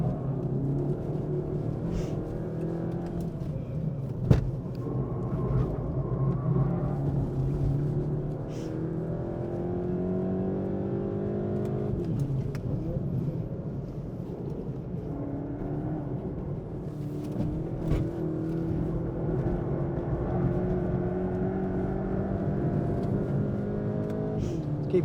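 Car lapping a track on test tyres, the engine droning and rising and falling through gear changes under steady cabin and road noise, heard from inside, with a sharp knock near the start.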